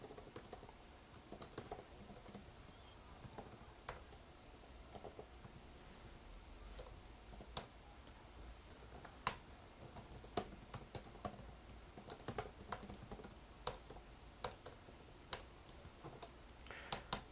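Code being typed on a computer keyboard, quiet irregular clicks of keys in short bursts and single taps, some sharper keystrokes standing out against a faint room hiss.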